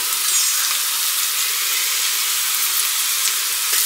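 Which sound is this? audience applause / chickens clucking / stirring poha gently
stirring poha gently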